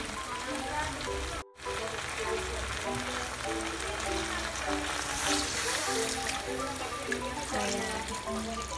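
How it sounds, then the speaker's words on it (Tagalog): Water is poured into a pot for pancit bato, giving a steady rushing, splashing hiss throughout while a person talks over it. "So ngayon, ilalagay na natin yung tubig."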